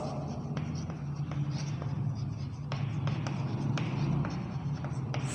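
Chalk writes on a classroom board in short strokes, tapping and scraping in an irregular rhythm, close and clear over a low steady hum.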